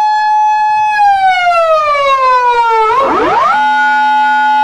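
A loud, close Japanese police car siren wails steadily, slides downward in pitch, then sweeps sharply back up into a new held tone.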